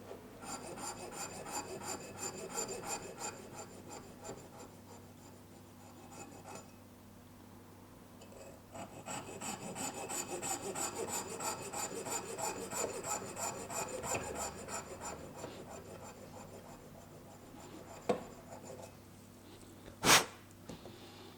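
A dental stone cast is cut with a hand saw, giving long stretches of steady rasping strokes at close range, with a pause midway and a few sharp knocks near the end.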